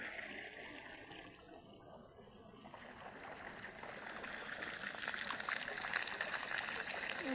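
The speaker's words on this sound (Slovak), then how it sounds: "Tu sú takéto rúrky, z ktorých ide potom voda." Water runs from pipes, first weakly, then strengthening into a steady hissing gush that grows louder toward the end, heard nearby with no voices.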